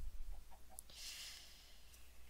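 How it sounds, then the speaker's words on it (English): A Minecraft chicken gives a few short clucks in the game, brief and fairly faint, with no talk over them. "Wait, was that chicken? Oh yeah, that's a chicken."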